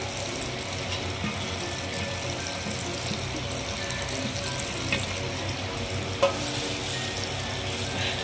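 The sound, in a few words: mutton chops and fat frying in oil with spices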